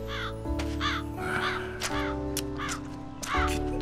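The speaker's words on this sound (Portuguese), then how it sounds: "Pássaro chato." A crow-like cartoon bird caws repeatedly in harsh rhythmic bursts over layered background music in an animated fantasy series, loud and close, with no talking.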